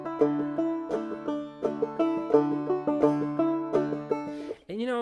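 Banjo played in a drop-thumb pattern with 1-2-4 tops, plucked notes in a steady rolling rhythm over a ringing drone string, close and clear, with a brief sliding tone near the end.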